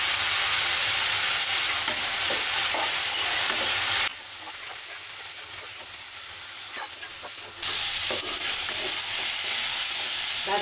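Sliced banana stem fries with black cumin and spices in a pan, hissing and sizzling continuously with faint stirring scrapes. The sound drops quieter for a few seconds midway, then returns to full sizzle, and no one speaks.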